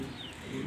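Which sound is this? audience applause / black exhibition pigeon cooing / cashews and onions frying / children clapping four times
black exhibition pigeon cooing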